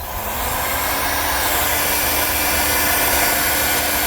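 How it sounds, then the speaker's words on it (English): A heat gun dries fresh primer on a part from a 1988 GSXR 750 motorcycle, giving a loud, steady broadband blowing roar with a faint whine that runs unbroken from start to finish. "I'll use the heat gun to speed up the process of drying the primer."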